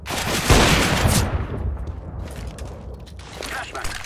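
Gunfire in the video game Counter-Strike, a loud burst of shots near the start that rings out and fades, followed by quieter mechanical clicks and rattles.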